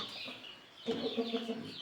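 A hen of the pencilled variety clucks in a short run of soft, rhythmic clucks, fairly close, after a moment of quieter background.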